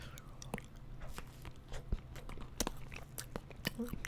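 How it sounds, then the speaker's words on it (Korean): Crisp bites and chewing of a fresh sandwich filled with whole kiwi, with sharp crunchy snaps and soft mastication close to the mic, repeated irregularly with no talking. "이 통 키위 들어가 있는 이 아삭한 그 소리 좀 들어주세요"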